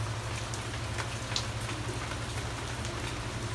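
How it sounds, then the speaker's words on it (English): Steady rain falls in Key West as a continuous even patter with scattered close drops, with no voices over it. "It's nice to hear the sound of rain though, huh?"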